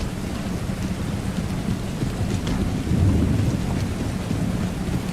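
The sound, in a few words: rain and thunder in Total War: Empire video game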